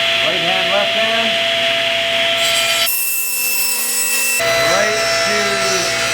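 A table saw cuts wood with a crosscut sled, giving a loud steady whine with sweeping rubbing tones as the blade bites through the board. The tone shifts briefly midway, and a voice speaks a word.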